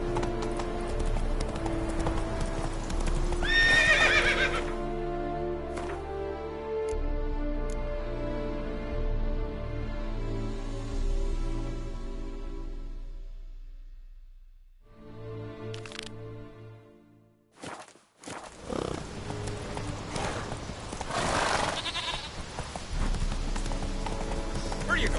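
Horse hooves clip-clopping at a gallop in The Witcher 3, loud and rhythmic with a short whinny, layered with game music and effects, dropping away briefly in the middle before the hoofbeats return.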